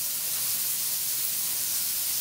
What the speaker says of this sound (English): With my potatoes frying, let me just check these out.